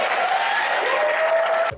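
A steady wash of audience clapping for a jazz musician carries on evenly at close range, then cuts off sharply near the end.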